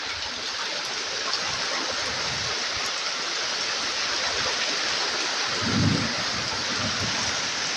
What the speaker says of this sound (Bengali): আকাশে অনেক মেঘ করছে মেঘ ডাকছে খর ঘর বৃষ্টি পড়তেছে ঝরঝর করে